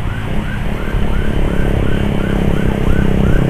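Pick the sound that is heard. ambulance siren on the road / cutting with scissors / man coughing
ambulance siren on the road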